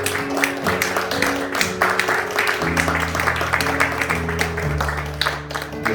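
A church congregation claps to welcome the worship team, a steady patter of applause under sustained music and some talk, moderately loud and continuous.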